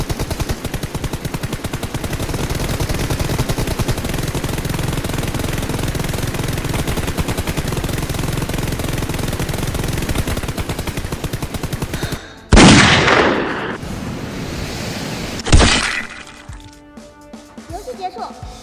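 Gunfire crackles through a live-action battle royale style game skit: a long, dense stretch of rapid shots, then two sharp, loud bursts near the end that quickly die away.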